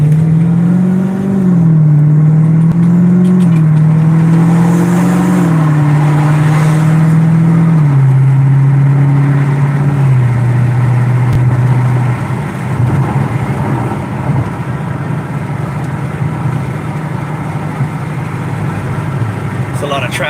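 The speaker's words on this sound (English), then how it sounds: "There's a lot of traffic right here" Car engine and road traffic on a busy street near the 10 freeway in Riverside County, a steady, loud drone with shifting engine pitch that holds for the whole stretch, with no talk over it.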